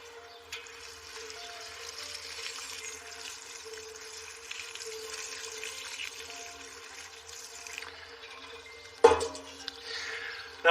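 Liquid tomato feed solution being watered onto plants in a garden, a steady continuous trickle and pour of water lasting several seconds, with a brief knock near the end.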